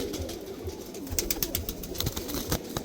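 A pigeon coos in a pigeon fancier's loft at evening, soft, repeated, close-up calls over a low background hum, with no one speaking.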